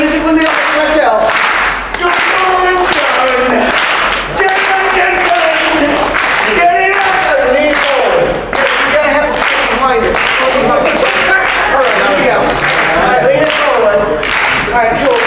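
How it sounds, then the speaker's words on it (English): An audience at a late-night magic competition claps slowly in unison, giving a steady rhythmic beat of loud, close claps while a voice talks over them. "Please, everybody slow clap."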